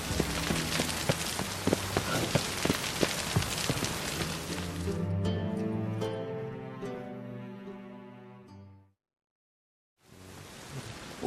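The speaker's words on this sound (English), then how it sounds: "I like rain." In The Witcher 3, steady rain hisses and patters on surfaces, then gives way to tonal sounds that fade into a brief silence before the downpour returns.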